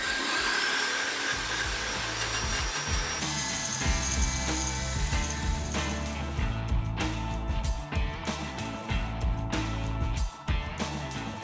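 A wire wheel grinding rust on a 1980 Toyota pickup truck, running continuously as a loud, close, rough whine with a steady scraping roar and a slight pitch shift partway through.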